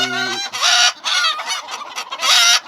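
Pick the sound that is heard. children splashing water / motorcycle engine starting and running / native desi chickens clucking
native desi chickens clucking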